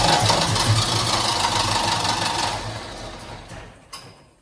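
A car engine cranks and runs nearby with a steady, rough mechanical drone that gradually fades toward the end, finishing with a brief clunk.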